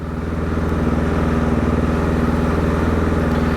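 A 2016 KTM 450 XCF dirt bike engine runs close by with a steady, throbbing putter, rising slightly as it revs, loud and without talk.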